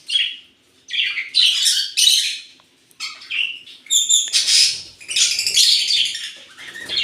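A baby lovebird gives a run of sharp, raspy squawks and chirps close up, in uneven bursts separated by short pauses, with no voices.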